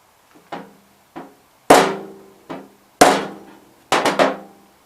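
Hammer blows drive a carburetor into place on a 1987 Gravely 20-G tractor, a few light taps followed by heavier ringing metal strikes in pairs and a quick triple, close and isolated.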